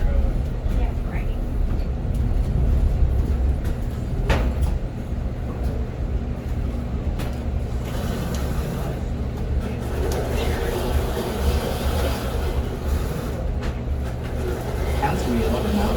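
A steady, heavy rumble of a train rolling along the rails through a canyon, with voices talking over the continuous noise.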